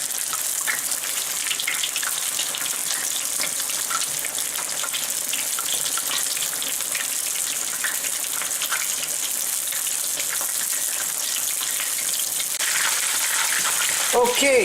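Fish fillets fry in hot oil for fish and chips, giving a steady, close, dense sizzle that holds evenly throughout with faint crackles and no voices.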